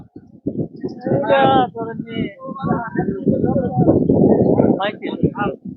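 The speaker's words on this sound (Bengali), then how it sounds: "সবগুলি লাল কালারের গরু সুন্দর গরু নিয়েছেন" Red Friesian cattle at a village livestock market in Bhaluka, Mymensingh, lowing close by under a crowd's steady chatter, with voices talking throughout.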